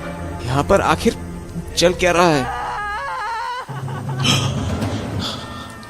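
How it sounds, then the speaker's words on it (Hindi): Wailing, whimpering cries in a Hindi horror story, rising and falling under voices that talk over them, the cries close and strained. "ये किसकी रोने की आवाज है?"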